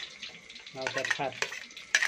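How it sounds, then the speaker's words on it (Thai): Ingredients sizzle and get stirred in a hot pan for a Thai-style stir-fry of bean sprouts with pork belly, close and fairly quiet, with a few scraping stirs. "เราจะผัด"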